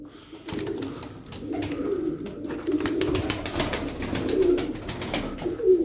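Racing tumbler pigeons cooing in soft, low repeated calls, with a flurry of flapping wings and rustling nearby.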